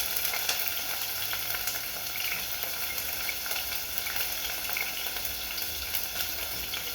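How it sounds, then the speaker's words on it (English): Onions frying in hot oil at close range, a steady crackling sizzle with fine popping that holds at a constant level throughout, no voices over it. "We are going to add oil. We put on our onions"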